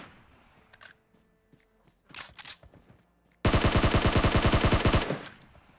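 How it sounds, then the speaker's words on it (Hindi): Automatic gunfire in the mobile battle-royale game PUBG Mobile: a sustained, loud burst of rapid shots after a few scattered earlier shots and clicks. "नहीं तो यार ये नेड करे जा रहा है, गोली चलाए जा रहा है।"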